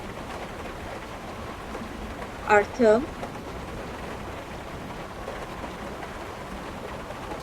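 Steady rain falling outside a window during a stormy scene, a soft continuous hiss under a brief spoken word from a voice.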